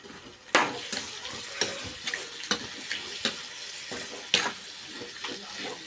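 Mutton liver being rinsed and swished in water in a kitchen vessel, giving splashy, sloshing bursts with sharp irregular splashes, moderately close, with no talk.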